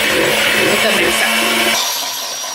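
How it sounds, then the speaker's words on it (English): An electric hand mixer beating softened butter and cream cheese gives a loud, steady whir that holds for about two seconds and then eases off. "And you're going to want to melt the butter, or soften the butter, and then combine it with the mixer."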